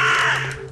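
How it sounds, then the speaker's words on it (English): A single loud, harsh crow caw in Fallout 4, close and raspy, fading quickly with a low hum underneath. "Jeez, the crows are loud."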